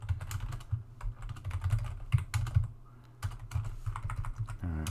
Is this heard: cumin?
no